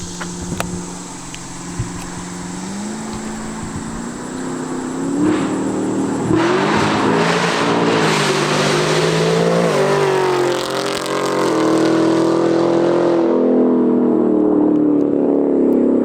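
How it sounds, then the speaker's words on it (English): A Camaro ZL1 fitted with an AWE Tuning Track catback exhaust, resonators and second cat removed, revs loud and close, its deep engine note climbing through repeated throttle blips into sustained high revs before settling. "AWE tuning, the company AWE tuning track exhaust with no resonators for the Camaro SS's"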